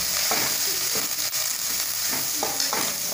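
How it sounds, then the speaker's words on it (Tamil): Chopped onions crackle in oil with mustard seeds and curry leaves in a pan for chilli kothu chapathi. The close, steady sizzle is broken by spatula scrapes roughly every second, and no one speaks. "வெங்காயம் வந்து நல்லா வணங்கி வரணும்"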